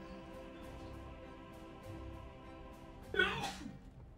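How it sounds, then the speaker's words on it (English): A single sharp sneeze bursts out near the end, loud and close, over a steady bed of soft background music. "I'm about to sneeze."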